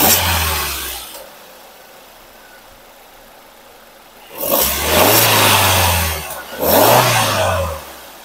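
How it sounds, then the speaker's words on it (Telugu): A used Maruti Ertiga petrol engine idles, goes quiet for a few seconds, then is revved twice, each rise swelling into a loud, smooth hum before settling back, heard close with no talking. "ఒకసారి ఇంజిన్ స్టార్ట్ చేసి మీకు కండిషన్ కూడా ఒకసారి చూపిస్తానండి"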